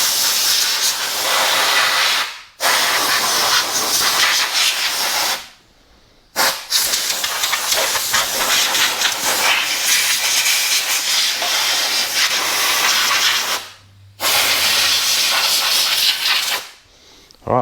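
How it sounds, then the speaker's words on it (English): A large Ryobi air compressor's blow nozzle blasts debris off a Morris Minor in loud, steady hissing bursts, several seconds each, separated by brief silent gaps, with no talking. "I bought myself a large Ryobi compressor. So we're just going to clean away any of the debris."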